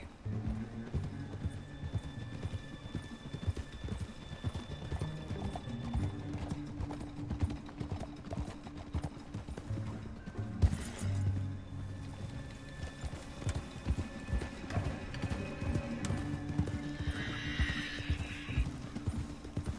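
Horse hooves clip-clopping at a run with occasional neighs in the Red Dead Redemption video game, steady rhythmic hoofbeats under low ambient game sound, fairly quiet throughout.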